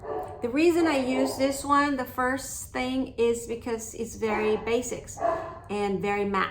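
A pet dog barks and yips in short bursts around someone speaking indoors, its sharp calls mixed in with and partly masked by her steady talking at close range.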